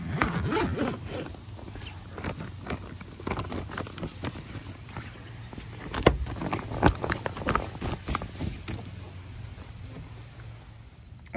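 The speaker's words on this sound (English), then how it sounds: "And you zipper up and that's it." A zipper on a RYNAPAC rooftop cargo carrier bag for a car is drawn closed in a series of close, rasping strokes with scattered clicks and rustles of fabric, and no voices.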